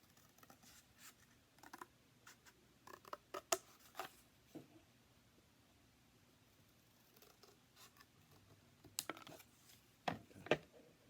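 Scissors cut through cardboard in short, scattered bursts of crisp snips and crunches, quiet and close, separated by long pauses of near silence.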